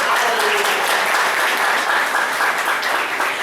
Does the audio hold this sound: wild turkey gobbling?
no